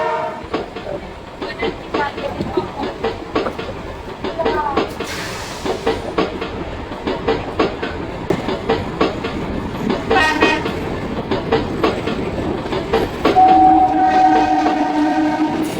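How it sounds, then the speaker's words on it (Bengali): A local MEMU passenger train pulls out of Raniganj station at night, with a steady rumble and rhythmic clickety-clack of the wheels close by, some clanks, and a brief horn or whistle tone near the end. "ট্রেন কিন্তু পুরো ফাঁকা, একদম পুরো ফাঁকাই আছে। ছেড়ে দিল রানীগঞ্জ স্টেশন থেকে।"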